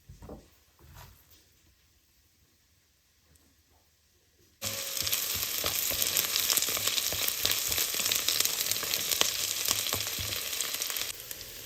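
White cabbage dropped into a pan with onions breaks into a loud, steady sizzle and crackle after a few quiet seconds of soft handling, with occasional stirring scrapes, close and continuous, no talk.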